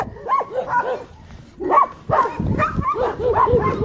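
Homeless dogs at the Adelina shelter barking in repeated bursts close by, with yips and whimpers mixed in and brief quieter gaps between volleys.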